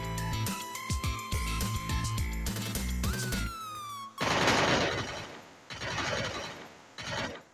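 Gunfire in the Free Fire battle royale game, with rapid bursts of close, sharp shots mixed with mechanical clicks and reload-like sounds, then harsher automatic volleys, loud and dense with no talk.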